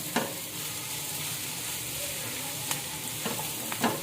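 Chicken and vegetables sizzle steadily in a hot pan over high heat as they are stir-fried with garlic, with a few sharp clinks of a utensil against the pan.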